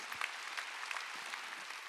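A church congregation claps together during a Sunday worship service, a steady, moderately distant wash of many hands that holds for the whole stretch with no talking over it.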